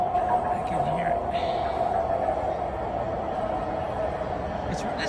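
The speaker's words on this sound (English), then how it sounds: "This train is really loud." A PATCO high speedline train rolls into a station with a steady, loud rumbling drone and a sustained tonal whine, continuous throughout with faint squeals above.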